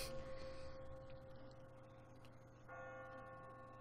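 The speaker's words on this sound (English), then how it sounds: "I got spooked by those bells" Church bells toll in The Walking Dead video game, a clear ringing tone with a sustained hum that fades, then a second strike rings out again amid faint ambient game sound.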